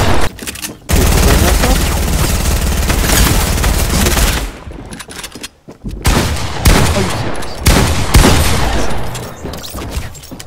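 Dense, continuous video game gunfire rattles loudly in rapid bursts, broken by a brief lull, with players talking over the shooting.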